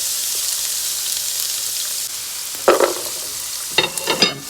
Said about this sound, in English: I'm just gonna go ahead and saute this down